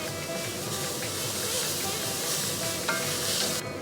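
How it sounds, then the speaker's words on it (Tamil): Grated coconut, white sesame seeds and chopped coriander sizzle in a pan over a low flame while being stirred. The frying hiss is steady, with an occasional scrape. "இப்போ அடுப்பை கொஞ்சம் சிம்மில் வச்சுட்டு எடுத்து வச்ச தேங்காய் எள் வெள்ளை எள் கட் பண்ண கொத்தமல்லி எல்லாத்தையும் போட்டு மிக்ஸ் பண்ணிடலாம்"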